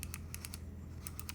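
A large touchscreen knob on a computer keyboard is turned, giving a quiet run of small clicky detent ticks in two short bursts over a faint low hum.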